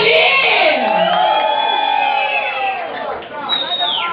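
Audience at a Brazilian music show cheering, whooping and yelling loudly as one crowd, a dense close roar of voices that swells and then fades slightly toward the end.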